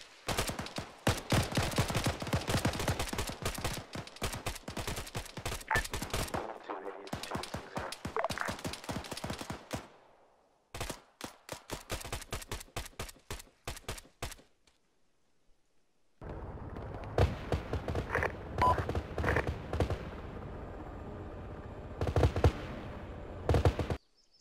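Gunfire in the military shooter ArmA 3, with dense, loud bursts of rapid automatic fire and single shots alternating with brief pauses and a near-silent gap before shooting resumes.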